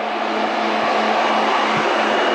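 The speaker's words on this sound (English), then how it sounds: "Oh, fuel pump does prime." A steady electric whine with a faint low hum, a Saleen Foxbody Mustang's fuel pump priming beneath a continuous fan-like rush, no voices.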